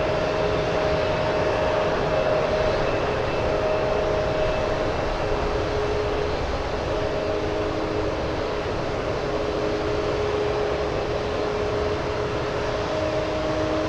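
A heavy airliner lands at San Francisco International Airport, producing a sustained, even roar with a faint steady whine over it that keeps going for the whole stretch without talk.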